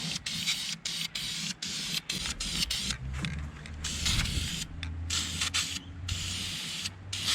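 Generic black VHT aerosol paint is sprayed onto 4x4 wheels in a string of short, loud hissing bursts, each separated by a brief gap, followed by longer continuous passes of spray.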